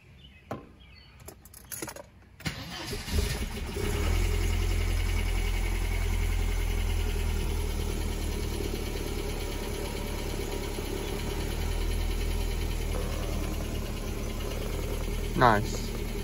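A 1991 Mercedes-Benz 190E with the 2.3 engine fires up after a few seconds of handling noise, then settles into a steady, close, even idle that runs to the end.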